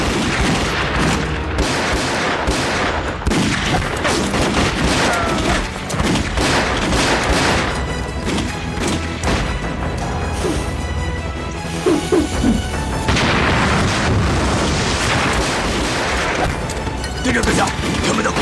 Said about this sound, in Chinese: 他们的火力很猛